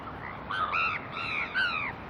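Crows cawing beside Inya Lake in Yangon, Myanmar: a few loud, close, harsh rising caws in quick succession over faint outdoor background, with no talking.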